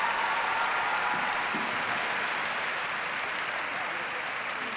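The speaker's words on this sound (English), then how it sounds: "Gets a very healthy round of applause in the arena." A healthy round of applause fills an arena at the European Figure Skating Championships after a men's short program, continuous dense clapping from a large crowd, steady and somewhat distant, with faint commentary underneath.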